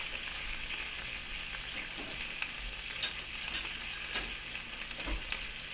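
A whole bunch of garlic, about six big cloves, stir frying in a hot pan gives a steady, close sizzle with occasional crackles and pops, continuous and even throughout with no talking.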